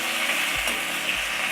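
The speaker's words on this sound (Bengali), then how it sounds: "টমেটো কুচিটা দিয়ে এবার একটু ভাজবো।" Chopped tomato fries in a pan on reduced heat while making broccoli, giving a steady, close hiss of sizzling with a couple of faint scraping stirs.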